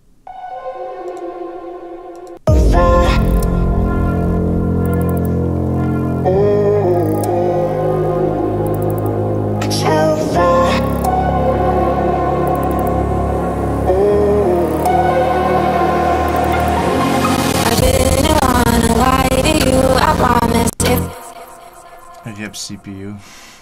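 A layered saw wave synth treated with flanger, chorus, OTT compression and a comb filter plays a busy, bright electronic passage for about twenty seconds, with brief breaks and a quieter tail.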